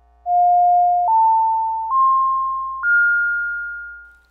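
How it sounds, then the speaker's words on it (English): A MOK Waverazor Eurorack synth module plays a pure, continuous sine tone that steps upward in pitch four times, holding each note about a second before fading out, loud and isolated. "we started with a simple continuous sine wave"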